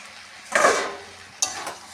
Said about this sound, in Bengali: ঢাকনাটা খুলে দিচ্ছি।